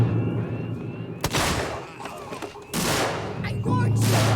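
Gunfire in the Alien: Isolation video game: three loud, sharp shots spaced about a second apart, each followed by a booming, rumbling tail.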